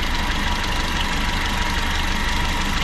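A Toyota Liteace engine idles steadily during tuning, a continuous close mechanical drone with a faint knocking pulse and no voices.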